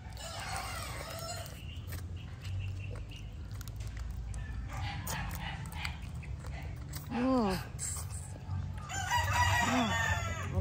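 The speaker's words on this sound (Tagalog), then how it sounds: "Background natin yung mga tumitilaok na manok ni Daddy." Roosters crow in the background of a rural Filipino home, two drawn-out calls rising over steady low noise and nearby chewing and talk.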